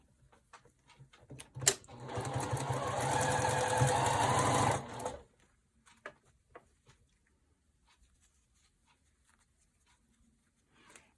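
A sewing machine stitches red and white fabric patches for a Jacob's ladder quilt block. It runs in one steady, close burst of about three and a half seconds, followed by quiet fabric handling and small clicks.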